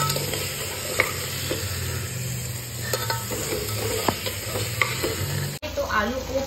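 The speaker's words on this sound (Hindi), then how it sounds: "इसमें डालना है आलू, आलू डाल के अच्छे से मिक्स करना है।" Potatoes are stirred into a chana dal curry frying in a pan, with a steady close sizzle and repeated scraping, clinking strokes of the spoon.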